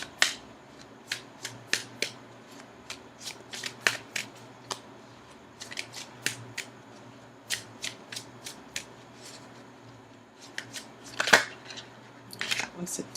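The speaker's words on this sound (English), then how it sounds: "Now I'm going to go ahead and shuffle for an outcome card" Crisp, irregular bursts of tarot card shuffling and snapping cards, close by, with soft pauses between flurries and a quiet low hum underneath.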